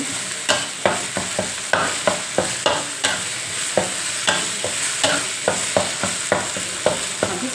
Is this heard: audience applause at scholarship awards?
no